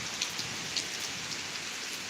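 Rain picking up during a November thunderstorm in Washington State, a steady dense hiss of heavy rainfall with scattered distinct drops, close and unbroken, with no voices.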